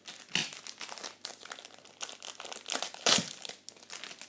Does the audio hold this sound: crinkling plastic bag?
yes